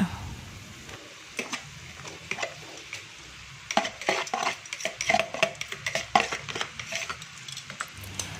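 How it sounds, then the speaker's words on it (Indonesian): Papaya leaves are stir-fried with oyster sauce in a pan. A utensil scrapes and knocks against it in irregular, quick clatters over a soft background sizzle. "Nah ini tinggal kita aduk aja supaya bumbunya ngeresep."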